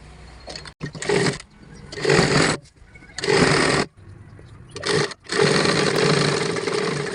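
Sewing machine stitching a skirt hem in several steady bursts of a few seconds each, separated by short pauses, close and fairly loud.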